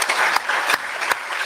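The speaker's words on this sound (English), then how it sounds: "Let's give these Marines a round of applause." Crowd applause at a ceremony marking the 50th anniversary of the Edmund Fitzgerald sinking, honoring Marines: dense steady clapping from many hands with a few sharper claps standing out, sustained throughout.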